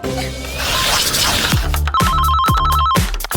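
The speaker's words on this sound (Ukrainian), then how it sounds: "Мені дзвонить бос з роботи" A telephone rings with a bright electronic trill repeating in short bursts, preceded by a brief clatter. The ringing sounds close and loud with no speech over it.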